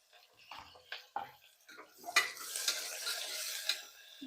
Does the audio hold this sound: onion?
yes